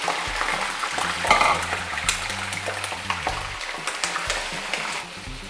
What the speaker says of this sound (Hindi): सबसे पहले आप चिकन फ्राई कर लें ऑयल में, ये 1 कप ऑयल है, इसमें आप चिकन फ्राई कर लें।